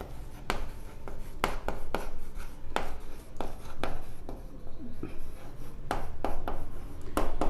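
Pen writing on paper during a Class 10 maths lesson on quadratic equations, with repeated short scratchy strokes in bursts, fairly close and clear, over a faint steady background hum.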